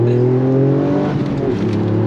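A Toyota GR Yaris engine pulls hard under acceleration, heard from inside as a loud, steady, rising drone that holds through the whole stretch.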